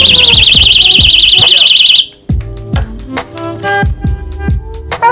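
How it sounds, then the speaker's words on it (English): A pull-string personal alarm emits a piercing, warbling electronic shriek for about two seconds, then stops, leaving clattering handling noises and a nearby voice. "an alarm that makes a really annoying sound when you pull that string"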